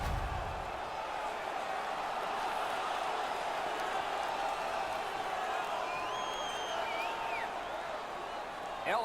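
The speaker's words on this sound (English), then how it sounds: "The home crowd is ecstatic. They're making all kinds of noise." Home crowd at a 1975-76 NHL ice hockey game between the Kansas City Scouts and Los Angeles Kings, a dense sustained roar of cheering and whooping that fills the arena steadily throughout, with a few whistles rising above it.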